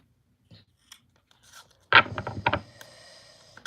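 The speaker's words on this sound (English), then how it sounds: "A couple more shuffles here" Tarot cards shuffled by hand: a quiet stretch, then a close, crisp burst of riffling and flicking that lasts about half a second and fades.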